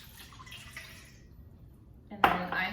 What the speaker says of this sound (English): into our bowl, we are gonna do 2 cups of warm water